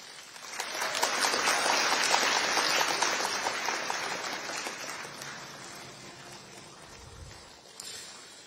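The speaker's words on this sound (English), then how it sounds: "give him a round of applause" A standing audience at a Delta State security trust fund launch gives the governor a round of applause, a broad wash of clapping that swells, holds for several seconds, then gradually thins and fades.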